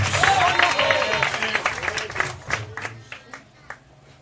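A church congregation claps for an arriving preacher, a full burst of applause that gradually thins into scattered claps as it fades.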